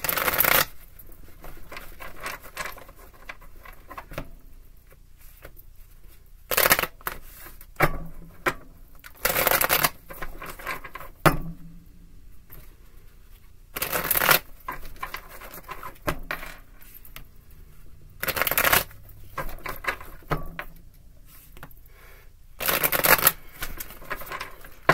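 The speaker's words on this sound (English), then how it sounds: "Five shuffles." Tarot cards shuffled by hand in repeated bursts, several crisp riffling flurries spaced across the stretch with soft handling sounds between, close and clear without talking.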